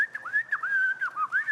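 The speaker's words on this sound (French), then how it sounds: "Pourquoi tu siffles, connard?" A person whistles a wavering melodic tune, a clear high continuous tone with slides and dips, close and steady with no talking.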